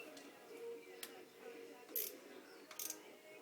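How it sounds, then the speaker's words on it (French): A size 8 wrench tightens two nuts, producing faint ratcheting clicks and small metallic ticks in a few short bursts, close up in a quiet room. "Une clé pour serrer les deux écrous. C'est une clé de 8."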